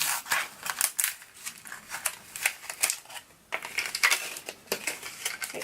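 PopSocket packaging is torn open in a series of close, crisp crinkling and ripping bursts, uneven in rhythm and moderately quiet, with no talk.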